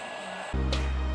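A Taffware Ice Fan laptop cooling fan, adjustable from 1500 to 3000 rpm, switches up midway into a louder, steady whirring drone with a strong low hum, close and alone.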